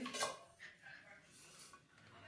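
A broken frying pan with its handle snapped off is handled, giving a few faint metallic clinks and scrapes, with the sharpest knock near the start and softer rattles after, in a quiet indoor room.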